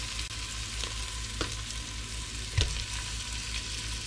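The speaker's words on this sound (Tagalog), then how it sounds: "igagisa na natin itong chicken legs" Chicken legs sautéing with browned aromatics in a pan for tinola, an even sizzle broken by a few stirring knocks and scrapes, no talking.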